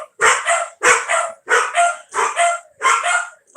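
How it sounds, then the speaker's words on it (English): Several small dogs bark close by, firing off loud paired yaps in a steady repeating rhythm, about five double barks with brief silences between them. "dogs are barking."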